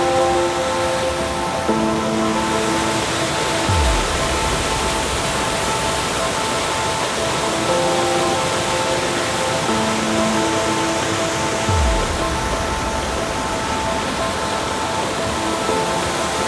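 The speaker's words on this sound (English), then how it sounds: "that water's rushing" Steady broadband rush of the Yellow Dog Falls waterfall in winter, a continuous roar filling the whole clip with no break, while a few faint tonal hums drift beneath it.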